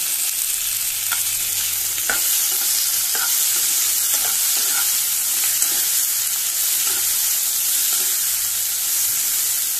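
Tomatoes frying in hot oil for Goan-style masala paneer, a steady loud sizzle filling the whole stretch, with occasional scraping stirs and no voices.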